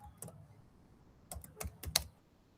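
A few scattered keypresses on a computer keyboard, typing in the GVIM editor, close and fairly quiet, with the clicks bunching together near the end and no voices.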